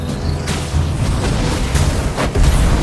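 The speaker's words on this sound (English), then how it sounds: "Our turret has been destroyed!" A turret blowing up in the Mobile Legends video game: a dense, loud burst of booming explosion and crackling effects running the whole moment, with a few sharper impacts near the end.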